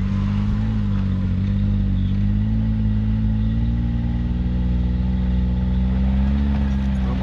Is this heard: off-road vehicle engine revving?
yes